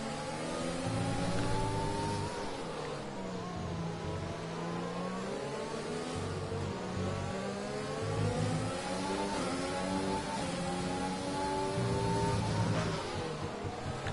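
Several race car engines wail and rev together in a racing video game battle at a Russian Grand Prix, a continuous loud whine with rising and falling pitch sweeps as cars fight for position, no talk over it.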